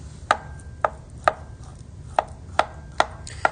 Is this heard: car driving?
no